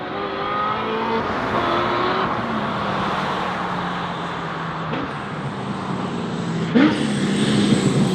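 A loud, roaring C6 Corvette V8 engine drones steadily nearby, with a sharp rev spike near the end; no voices.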